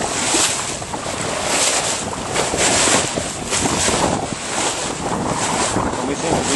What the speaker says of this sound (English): Oh, it's a bit of a lumpy sea.